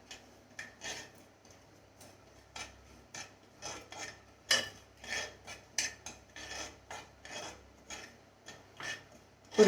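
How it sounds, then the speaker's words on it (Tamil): Semolina (rava) roasting in ghee is stirred with a utensil in a pan, giving repeated short scraping rasps in an uneven rhythm, close and fairly quiet. "இந்த கீயில் நல்லா இந்த ரவை வந்து அப்படியே வறுத்தெடுத்துருங்க"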